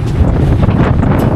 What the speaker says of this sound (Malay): Ya, angin boleh tahan tu.